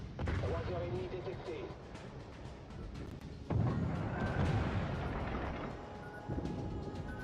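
Secondary guns on a French battleship fire in a naval video game, heavy booming blasts rolling into one another with a sharp new salvo near the middle and another toward the end, loud and continuous.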